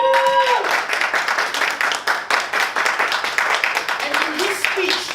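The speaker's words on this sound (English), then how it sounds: "A round of applause." Audience applause at a Toastmasters evaluation session, steady clapping of a seated room lasting the whole stretch, with a brief voice at the start and some murmuring near the end.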